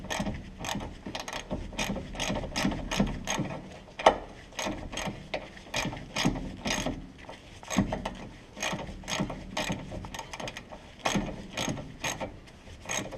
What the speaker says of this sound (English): So we're just going to get our socket driver on here and take off this castle nut.